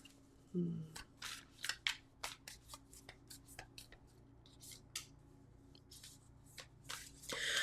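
Oracle cards shuffled and drawn during an ancestral card reading, with a quick series of crisp riffling and snapping card flicks, close and fairly quiet, with some brief soft handling noises between bursts.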